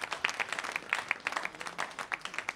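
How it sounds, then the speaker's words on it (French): Moderate audience clapping at an economic award ceremony, individual claps audible within a scattered, uneven patter that stays fairly soft and steady. "Applaudissements, s'il vous plaît."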